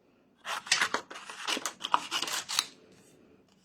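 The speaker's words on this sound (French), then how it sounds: "Et puis là, bah, je prends mes ciseaux." Scissors snip through paper cardstock in a quick run of crisp cuts, close and fairly loud, then stop.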